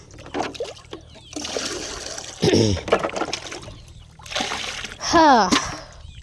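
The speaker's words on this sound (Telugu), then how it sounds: "కింద నింపితే నీళ్ళు నింపుదాం" Water splashes and trickles as it is filled and poured at a flooded farmhouse after rain, coming in irregular bursts with voices talking nearby.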